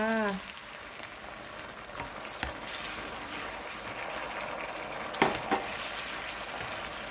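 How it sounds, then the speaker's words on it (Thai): White wine poured into a hot frying pan for a mushroom pasta gives a sharp hiss that settles into a steady sizzle, close and continuous, with occasional stirring clatter and no speech. "แล้วก็ใส่ไวขาวลงไปค่ะ"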